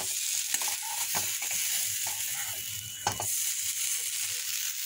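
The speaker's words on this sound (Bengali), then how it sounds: "একটু মশলাটা কষাবো।" Spice masala for ghugni is stir-fried in a pan, giving a constant close sizzle broken by scraping spatula strokes and a few clanks, with no talking.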